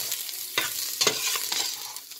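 Mushrooms lightly frying in a little oil for a vegetable soup, a close, bright sizzle with a few soft stirring scrapes, steady and fairly quiet, with no talking.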